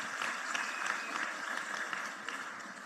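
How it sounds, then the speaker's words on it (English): Applause rises faintly from a distant crowd at a matric results announcement, a soft, continuous patter of many hands heard from afar. "I think we can give them a big hand of applause."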